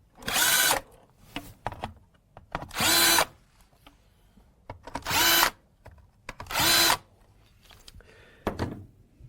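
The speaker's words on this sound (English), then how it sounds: "drill the corresponding holes by using the center drill bit" A power drill with a center drill bit bores holes into a cabinet for a Grass Dynapro drawer slide template: four loud whirring bursts of about half a second each, with quieter handling clicks and knocks between them.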